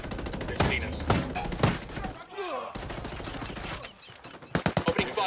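Automatic and rifle gunfire in a Ghost Recon Wildlands firefight, loud bursts and single shots scattered across the scene, with a sharp rapid burst near the end and brief pauses between volleys.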